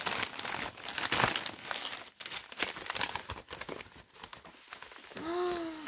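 Mailed press packages of books being torn open and unwrapped at close range, with dense bursts of paper and plastic crinkling and rustling, followed by a short rising tonal squeak at the end.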